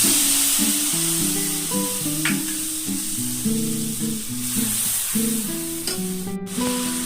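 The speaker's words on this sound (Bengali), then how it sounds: "গরম কড়াইয়ের মধ্যে তেলের মধ্যে আমি এবার কালো জিরে ফোড়ন দিয়ে দিলাম।" Black cumin seeds and a spice paste sizzling in hot oil in a wok for a Bengali pabda fish curry, a steady bright hiss under a drifting melodic tone, fairly loud, with no speech.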